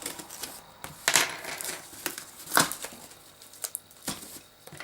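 A blade cuts open a package for unboxing, giving several short sharp slicing and tearing bursts at close range, scattered irregularly across a quiet room.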